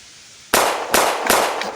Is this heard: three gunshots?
yes